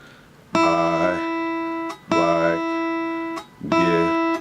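Guitar picking exercise played with alternating down and up strokes: three bright plucked phrases, each a clear attack followed by ringing notes that fade, close and alone with no voices.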